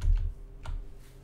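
Computer keyboard typing at a desk, a few quick separate keystrokes close by, faint and dry with no other sound.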